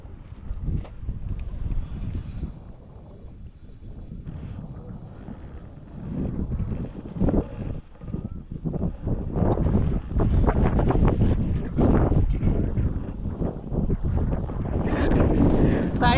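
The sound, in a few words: strong wind blowing over a fishing pond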